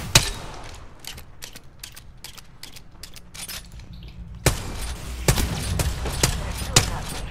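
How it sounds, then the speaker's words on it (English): Gunfire in the video game Apex Legends, with sharp rapid bursts of shots, a brief mechanical pause, then heavier louder volleys, close and punchy, with faint speech in the background. "Open fire on the enemy."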